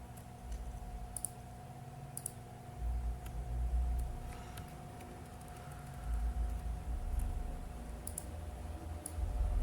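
Computer keyboard arrow keys give faint, sharp clicks at irregular intervals, some in quick pairs, over a steady low electrical hum.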